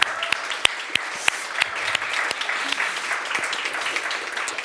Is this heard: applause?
yes